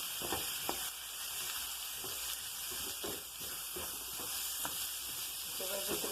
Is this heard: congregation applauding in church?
no